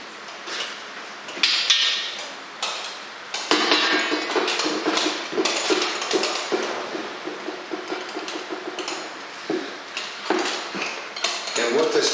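Utility knife scoring and slicing through a thick rubber gym floor mat, a string of short scraping, cutting strokes with sharp clicks and bumps, close and fairly loud.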